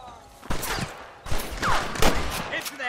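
Cannon and gunfire boom in several sharp bursts during a Red Dead Redemption battle, with game sounds and voices mixed in.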